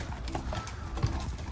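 Horses trot past on a riding outing in New York, a quick run of hoof clip-clops fairly close, with faint voices around.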